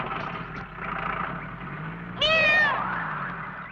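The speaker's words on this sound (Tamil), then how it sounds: "பூனை குறுக்க போகுது, கெட்ட சகனம் போகாதீங்க" A cat crossing a path gives one clear, fairly close meow. An engine idles steadily underneath it.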